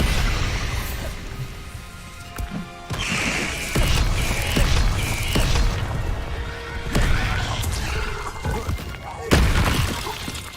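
Spell blasts and magic combat in the wizarding game Hogwarts Legacy, with loud crashing explosions, shattering debris and creaking impacts following one another, while a voice casts spells over the noise.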